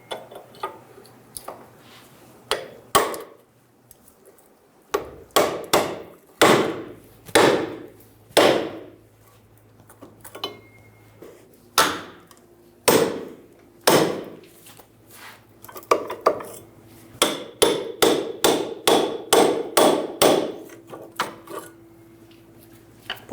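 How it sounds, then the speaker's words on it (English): Repeated sharp metal hammer blows drive a pickle fork to pop the ball joint out of the steering knuckle on a 2000-2007 Ford Focus front lower control arm, coming in irregular bursts of loud strikes that quicken into rapid clusters near the end. "we're going to pop the ball joint out of the knuckle."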